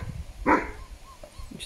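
A single short dog bark rings out near the mic, from a mother dog raising a litter, with quiet household noise before and after.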